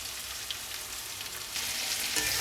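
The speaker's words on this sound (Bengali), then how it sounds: "পেঁয়াজটার মধ্যে দিয়ে নেব নুন, সামান্য পরিমাণে নুন পেঁয়াজ ভাজার সময় দিয়ে দিচ্ছি।" Onions frying with a little salt in a pan give a continuous crackling sizzle, moderately loud and steady, growing slightly stronger toward the end, heard without any voices.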